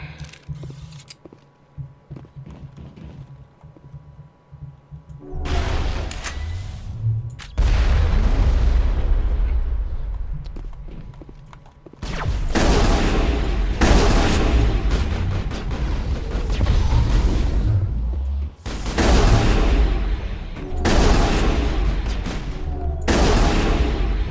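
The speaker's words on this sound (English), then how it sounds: "fuel tank, you can actually blow that thing up from the other end of the room" Video game combat in Mass Effect, with a fuel tank blown up amid gunfire: a low booming explosion followed by sustained loud bursts of rapid shooting and rumbling blasts, broken by brief pauses.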